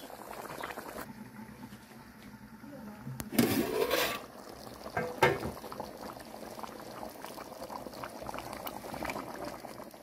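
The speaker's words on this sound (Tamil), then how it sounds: "குழம்பு கொதி வந்த பிறகு அதை சேர்க்கணும்" A pot of traditional dry fish curry with field beans and country vegetables bubbles steadily, with a couple of brief louder clatters partway through.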